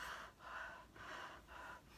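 Steady breathing in and out through a filtered face mask, four slow alternating breaths with a soft airy hiss, close and fairly quiet, no talking.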